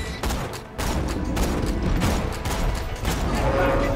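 Rapid bursts of gunfire in the video game Borderlands 2, with dense, repeated shots and mechanical clatter running almost continuously, loud and close, and a player's voice faintly mixed in.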